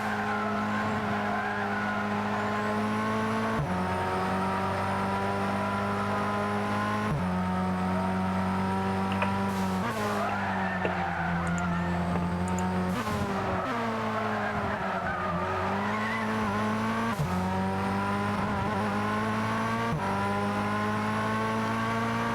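Race cars in a GT racing video game drive continuously with steady engine drone, harmonics rising and falling through gear changes, and occasional tire squeal, loud throughout.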